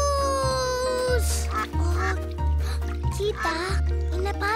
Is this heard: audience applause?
no